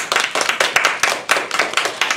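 A small audience claps after a student speech is introduced, a short burst of sparse individual handclaps, close and uneven, with no talking over them.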